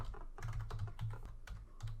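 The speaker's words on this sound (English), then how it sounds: "With the mic right in front of my keyboard, it's very hard to see the key" Someone types fast on a computer keyboard set right beside the mic during a gaming session, making a dense run of close clicks and key thumps with brief pauses and no talking.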